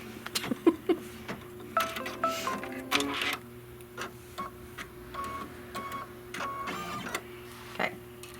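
An embroidery machine stitches a seam line in quick, irregular bursts of ticking and patter, punctuated by sharp clicks and faint mechanical whirs, fairly quiet and close with no talking.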